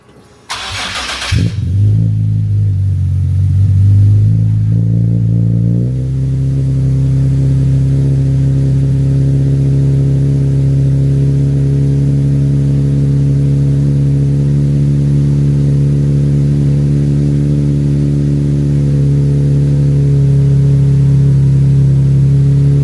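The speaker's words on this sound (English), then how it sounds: "Okay, exhaust is on. I'm gonna give it a little startup. Let's see what we have." A supercharged Nissan 370Z with a new 3-inch single-exit exhaust fires up with a loud, close cranking burst, flares briefly, then drops into a steady, deep idle for the rest of the clip, with no talking.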